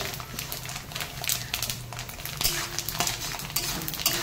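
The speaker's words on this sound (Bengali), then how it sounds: "হলুদটা আগে তেলের উপরে ভেজে নেবো" Turmeric fries in oil in a pan for a raw mango pickle, a low steady sizzle under clinks and scrapes of a metal spoon against the pan, with a faint tonal hum beneath.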